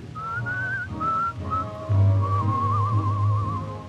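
A man whistles a short wavering tune in several phrases, clear and close, over a low steady hum.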